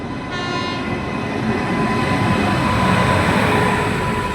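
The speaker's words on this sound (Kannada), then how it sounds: "ವ್ಯಾಪ್ 7 ಲೋಕೋಮೋಟಿವ್." A WAP-7 electric locomotive hauls an ICF-coach passenger train past on the Bengaluru–Mysore line, a steady loud rumble and rail roar running throughout with a sustained horn-like tone, no talk.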